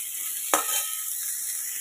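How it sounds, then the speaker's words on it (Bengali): Small diced potatoes fry with salt and turmeric in a pan, a steady close hiss of sizzling oil broken once by a sharp scrape of stirring. "একটু হলুদ আর নুন দিয়ে আলুটা ভাজতে দিয়েছি"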